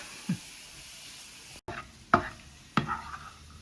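A few sharp stirring scrapes in a large frying pan of mushrooms over a quiet sizzle, three or four distinct strokes with a brief cut partway through.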